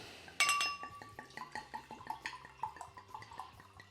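WineXpert Classic Smooth white wine from a home kit is poured from a bottle into a glass, opening with a bright clink and then a soft, gurgling trickle, quiet and close.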